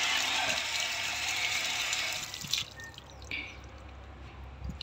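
Water trickles and drips from a leaking pump filter system, a steady rushing flow at first that drops to quieter scattered drips and splashes.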